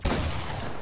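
Gunfire in the video game Fortnite, a single brief loud burst of shooting up close that decays quickly.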